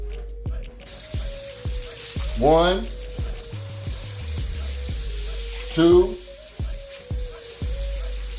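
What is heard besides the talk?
water being poured onto rice for microwave cooking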